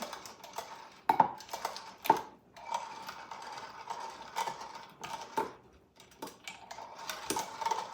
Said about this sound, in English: I'm just trying to break the yolks.